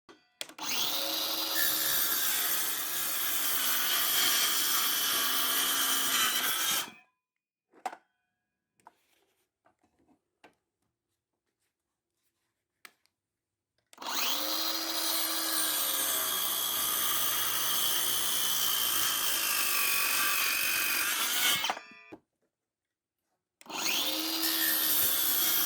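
A Skil 20V cordless circular saw cuts through wood in two long, loud, whining passes of about seven seconds each, separated by near silence, with a third cut starting at the end.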